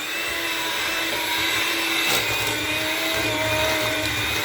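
Electric hand mixer whirring steadily in a bowl of raspberry pretzel dessert filling, a constant close motor hum with slight fluctuations, alone without talk.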